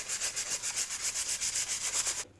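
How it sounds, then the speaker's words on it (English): Hand-sanding a wooden box miter joint, a steady rhythmic back-and-forth rasp of about fifteen strokes, close and even, stopping abruptly near the end. "I'm just going to continue sanding it"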